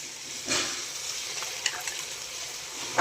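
Octopus chilli fries in a pan with a soft, continuous sizzle that has a few faint stirring clicks, close but quiet.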